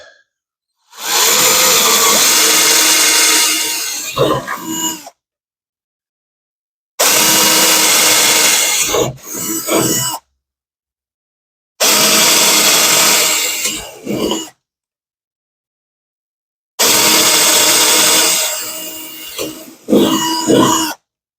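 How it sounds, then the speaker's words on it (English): Four separate bursts of a power drill whining through material on a model aircraft build, each a few seconds long with short silences between, close and loud. "So I grab my drill"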